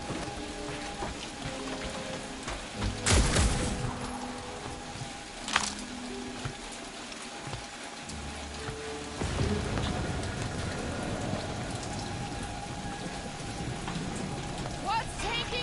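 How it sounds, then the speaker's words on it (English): Steady rain pours down in Marvel's Guardians of the Galaxy video game, a dense continuous hiss of drops on surfaces with a couple of sharper splashes, heard alone without talk. "Peter Quill is dilly-dallying in the rain."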